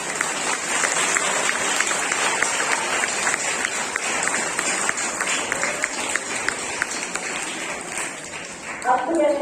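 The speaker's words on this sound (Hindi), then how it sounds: "एक जोरदार ताली" Loud, sustained applause fills a crowd at an Independence Day celebration, dense steady clapping running throughout with a voice briefly audible near the end.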